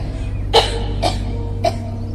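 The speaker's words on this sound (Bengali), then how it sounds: "হঠাৎ দেবী মূর্তির স্বর বদলে কাশি হতে লাগলো" Three separate coughs sound behind a goddess idol, a short, sharp burst about every half-second to second, close and moderately loud over a steady low hum.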